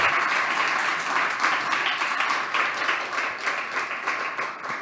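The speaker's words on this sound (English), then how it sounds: "Big applause for our fifth team." A Demo Day audience at an AI startup event applauds the fifth team, giving a steady, loud, close wash of many hands clapping that lasts throughout without speech.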